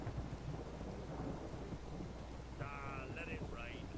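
Thunderstorm with steady rain and a low rumble of thunder in The Witcher 3: Wild Hunt, a continuous wash of downpour with a brief whistling tone near the end.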